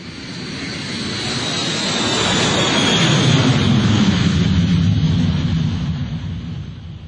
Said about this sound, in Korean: 마침내 난 한국행 비행기를 탔다.